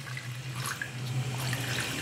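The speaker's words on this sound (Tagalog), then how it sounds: "Konting tubig lang, parang i-steam ko lang siya." Water is poured from a container over live crabs in a cooking pot before steaming, making a continuous close splashing and gurgling pour for a couple of seconds.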